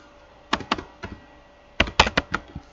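Keystrokes on a computer keyboard, two short bursts of quick taps separated by a pause, close and crisp with no voices.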